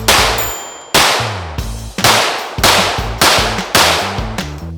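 A Glock 17-pattern pistol fitted with a Lone Wolf Arms Alphawolf slide fires six rapid shots at steel target plates. Each sharp crack is followed by a ringing metallic clang that decays before the next shot.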